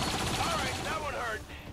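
Automatic turret gunfire in the video game XCOM 2, a short rapid burst of shots that fades out, with no speech.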